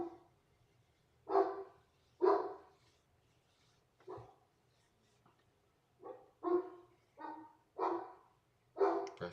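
A dog barks repeatedly indoors while thunderstorms brew outside, with a pair of sharp barks early, a lone bark mid-way and a quick run of five or six barks near the end, all fairly close and clear over a quiet background.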